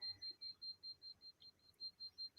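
A radiation meter beeps at a dangerous level, a rapid, regular train of high, thin electronic pips repeating about five times a second, fairly faint over a quiet room.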